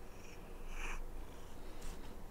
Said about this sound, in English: Sleepy cat.